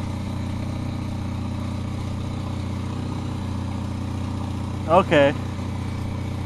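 A tractor engine idles steadily nearby in the cold, a constant low rumbling drone throughout, with a person briefly speaking over it.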